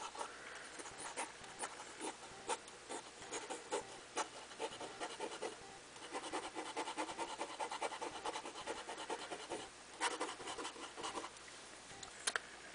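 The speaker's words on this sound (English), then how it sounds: "It's almost like writing with a metallic brush." A flexible-nib fountain pen loaded with Noodler's Black Swan ink scratches across paper at an average writing speed, giving a close, faint, steady rasp broken into short strokes with brief pauses.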